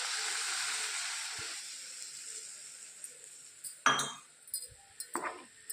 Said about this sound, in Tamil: கட்டி இல்லாமல் கை விடாமல் கிளறிக்கிட்டே இருக்கணும்